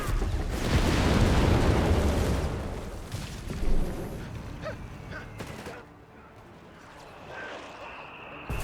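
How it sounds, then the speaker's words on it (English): Heavy gunfire and explosions roar through a Company of Heroes 3 battle, with dense, loud rumbling blasts at first that ease into scattered shots and booms. Someone talks quietly in the background. "Heavy fire being laid down here."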